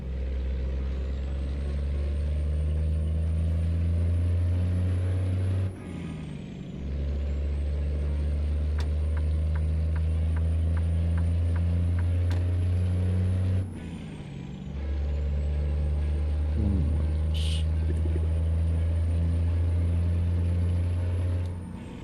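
A heavy truck in the American Truck Simulator game drones steadily at close range, cutting out briefly between three long engine stretches with sharp air-brake hisses, plus a faint high whine.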